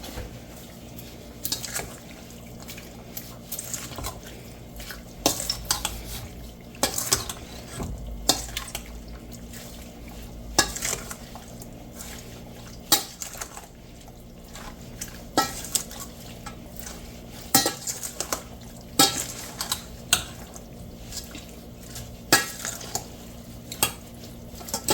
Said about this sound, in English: And we'll just mix this up.